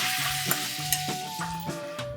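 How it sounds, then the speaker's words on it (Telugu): Tomato pieces fry in a little oil in a kadai, giving a steady close sizzle punctuated by several sharp scraping stirs of a spatula. "ఇప్పుడు మళ్ళీ ఇదే బాండీలో కొద్దిగా నూనె పోసుకొని టమాటాలను వేయించుకుందాం."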